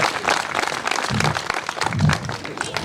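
A crowd at a government higher secondary school function breaks into continuous applause to welcome the village sarpanch, a steady patter of many hands with a voice briefly audible over it.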